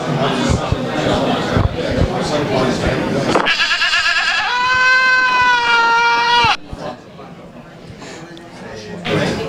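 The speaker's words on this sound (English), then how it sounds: "The laughing goat says that wasn't funny." A laughing goat sound effect bleats in a long, wavering, nasal cry that rises out of loud crowd noise and chatter at a doubles darts final, then the room noise resumes after it ends.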